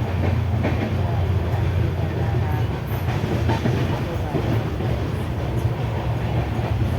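Steady low rumble of a moving train heard at night from inside a sleeper carriage, continuous and even throughout, with faint rattling over the drone.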